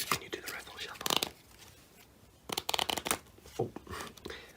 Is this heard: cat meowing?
no